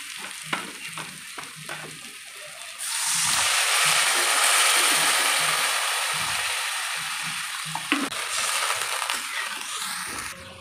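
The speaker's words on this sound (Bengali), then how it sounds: "এখন দিয়ে দিলাম মসুর ডালটা একটু তেলে ভেজে নেব।" Red lentils frying in oil in a pan, with a loud, steady sizzle that swells after a few seconds and continues, mixed with scraping and clinking stirring sounds before and after.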